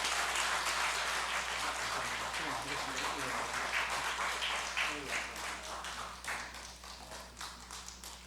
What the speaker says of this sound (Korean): 우리 드릴 때 우리 축복의 박수로 함께 해주시면 감사하겠습니다